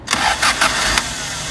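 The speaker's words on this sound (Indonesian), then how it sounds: "sekali starter langsung greng ya guys ya. Suaranya tuh ya, halus banget suara mesinnya." A 1986 Honda Accord Prestige engine cranks in a few quick bursts and catches, settling into a smooth running hum.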